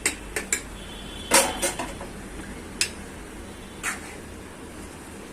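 A pot of black chicken is shifted on a gas stove, giving several sharp metallic clanks and scrapes against the burner grate, loudest around the middle, then fewer later clinks.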